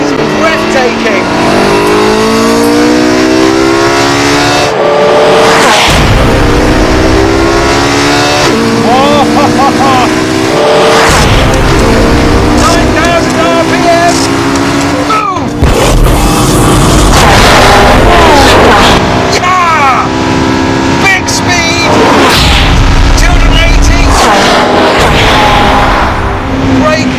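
A Porsche 918 Spyder hypercar accelerates hard down a long 1.2-kilometre straight, its engine roaring loud and near through repeated rising sweeps and gear changes while someone talks over it.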